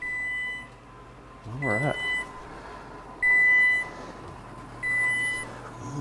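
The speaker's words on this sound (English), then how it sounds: "We've got our timer here, and I definitely don't want it going off while we're trying to get it off." An electronic kitchen timer beeps in three short bursts spaced more than a second apart, clear over room noise, with a person talking briefly between the beeps.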